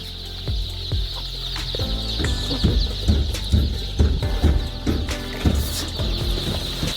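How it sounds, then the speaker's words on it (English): Two-month-old chicks on a poultry farm cluck and peep in a steady chorus with repeated soft calls over a constant background hum. "Now our chicks are reaching 2 months, and they are moving well"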